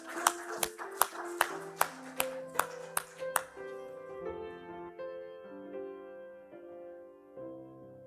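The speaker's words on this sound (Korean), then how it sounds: "하나님께 영광의 박수 올려드리겠습니다" Congregation at a Sunday morning church worship service clapping, a series of about eight sharp, evenly spaced claps over roughly three seconds, followed by sustained organ or keyboard chords ringing on alone.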